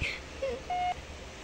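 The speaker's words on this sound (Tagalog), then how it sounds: "Beep." Short electronic beeps sound in the Roblox game Zombie Stories: a high chirp, then two brief tones, the last one longer and steady, over faint background hiss.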